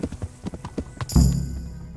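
Horse hooves clip-clop in a steady rhythm while riding toward Talmberg castle in Kingdom Come: Deliverance, ending in a louder thump and a lingering low rumble with a bright tone.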